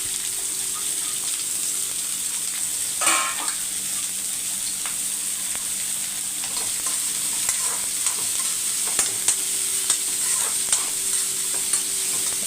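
Onions, curry leaves and green chillies fry in oil with a continuous close sizzle. Scattered clinks and scrapes of stirring come through, with one brief louder rattle early on and no talking.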